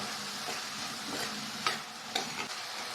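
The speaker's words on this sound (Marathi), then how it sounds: "बदामी कलर येईपर्यंत परतून घेऊया कांद्यामध्ये आपण चवीनुसार मीठ टाकूया" Onion with salt sautéing in a pan for Maharashtrian potato bhaji, a soft continuous sizzle with a few sharp scrapes of a spatula against the pan, close by and fairly quiet.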